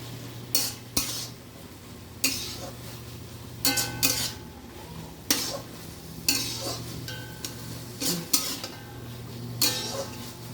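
A spoon scrapes and clinks against a pan while garam masala paste is stirred into banana flower curry, repeated irregular stirring strokes over a faint steady hum.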